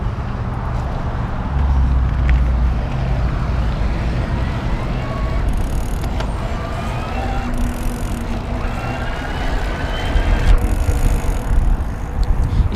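A Fuji Ambient 27.5+ electric mountain bike ridden in Eco mode gives a steady rolling drone of tires and drivetrain with a faint motor whine and wind. The sound stays close and continuous.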